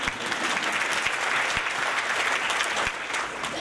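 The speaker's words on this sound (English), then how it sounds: "you may clap" A breakfast audience at an International Women's Day event breaks into sustained applause, a thick, even patter of many hands that holds steady throughout with no talking.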